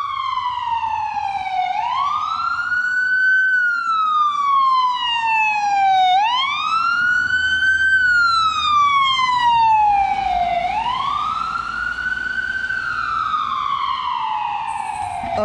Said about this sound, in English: Nope, it's an ambulance.